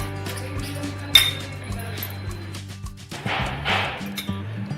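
Batter for crispy bitter gourd fritters being stirred in a bowl in a home kitchen, giving soft scraping with a sharp clink of utensil on the bowl, close and fairly quiet amid a low background hum.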